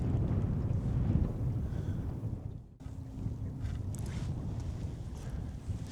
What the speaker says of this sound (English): the wind's blowing me all over the place even